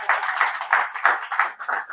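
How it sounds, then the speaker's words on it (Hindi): An audience claps at a Hindi poetry and ghazal recital, a dense patter of hands that swells and dips in several waves across two seconds, fairly close and with no voices. "तालियां बजती रहें।"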